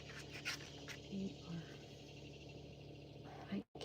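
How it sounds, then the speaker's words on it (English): Cicadas during muggy, rainy summer weather make a faint, steady buzzing drone in the background, mixed with soft scratching and room noise. "those are cicadas"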